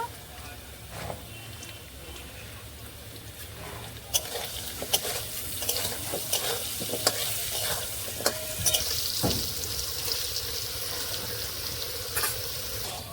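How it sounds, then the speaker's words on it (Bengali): Potato pieces frying in a pan with a little salt and turmeric give a steady close sizzle, with sharp scraping stirs and clinks at irregular intervals throughout. "আলুটা লাল লাল করে ভাজা হয়ে গেছে"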